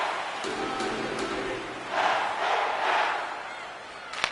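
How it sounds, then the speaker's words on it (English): A hockey arena crowd in the video game NHL 26, Buffalo Sabres against Washington Capitals, roars with a steady wash of cheering that swells in waves, while a commentator's voice runs beneath. "you can feel the energy in this crowd"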